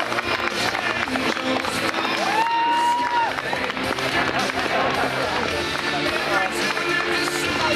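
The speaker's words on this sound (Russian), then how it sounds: "Аплодисменты, дамы и господа." An audience at a masters bodybuilding and fitness championship in Latvia applauds and cheers after a posing round, steady dense clapping filling the hall throughout, with an announcer's voice over the crowd.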